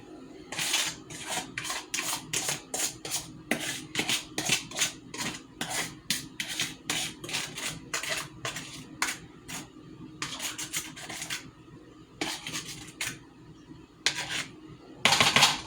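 A fork scrapes and mixes wet ingredients into dry ones in a bowl for banana nut bread batter, making close, rhythmic rasping strokes in quick bursts with short pauses between them.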